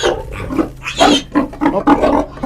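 A boar on a farm gives a string of low, rough grunts, about six of them spread unevenly, close and fairly loud over a faint background hum.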